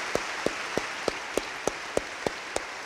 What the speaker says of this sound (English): a big round of applause for our two super fans